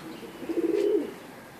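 Pigeons of the Iraqi Azraq breed coo once in a soft, brief, rolling burst at moderate distance, with a faint flutter of wings and a quiet background.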